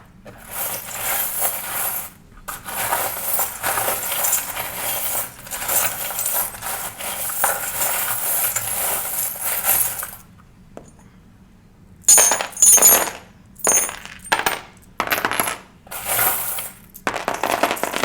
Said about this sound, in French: Et puis les breloques.